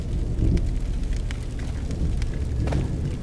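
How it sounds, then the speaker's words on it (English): Steady rain and low rumbling thunder from a storm in the horror game The Evil Within, a dense continuous wash of noise with a couple of soft swells, no voices. "That the freaking storms in this game."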